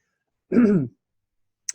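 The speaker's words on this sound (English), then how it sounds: "I'm going to cough" A single short cough from a woman during a live energy-healing webinar, close and fairly loud, followed by a brief soft click or throat sound a moment later in otherwise quiet surroundings.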